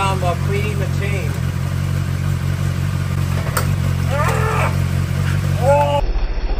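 A motorcycle engine runs at a steady low idle during chain cleaning, a continuous hum under a voice and some squeaky high sounds, cutting off abruptly near the end.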